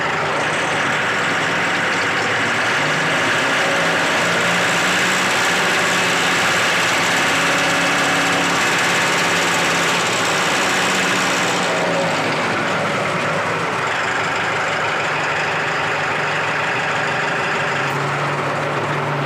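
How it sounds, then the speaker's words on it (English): A Mahindra 4540 gear 4WD tractor engine runs throttled up to PTO RPM, a loud, steady diesel drone with a constant low rumble that shifts slightly in tone partway through. "I'll throttle up for you so you can hear a little bit better"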